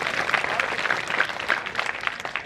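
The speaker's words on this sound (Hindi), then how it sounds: "तालियां बजा दो एक बार।" A short burst of clapping from the audience at a kavi sammelan poetry gathering during the Kishanpur mela, lively and steady for about two seconds.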